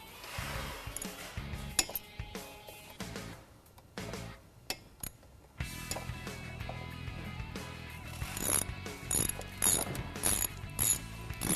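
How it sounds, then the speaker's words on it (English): Ratchet clicking in bursts as caliper bolts on a motorcycle brake are tightened during a brake pad install, the close metallic ratcheting repeating in several runs with short pauses between them and no talk. "you're going to want to tighten up your caliper bolts"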